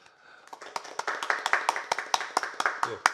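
Audience clapping at an academic conference session on cyber security, starting soft and scattered, then settling into a rhythmic, evenly spaced series of loud individual claps close by, with a brief voice at the end.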